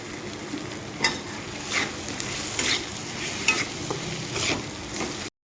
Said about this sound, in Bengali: পাঁচ মিনিটের মতো আমি এভাবে নেড়ে চেড়ে নেব